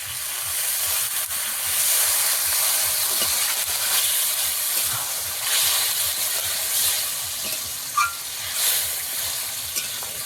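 Tangra fish curry with potatoes and peas sizzles and hisses steadily in a pan as water goes in, a continuous broadband frying hiss with a brief sharper burst near the end and no talking.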